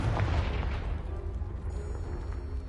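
The Confringo spell blasting a pile in the Hogwarts Legacy video game, a heavy booming explosion at the start followed by a low rumbling, crackling decay, close and loud with no talking.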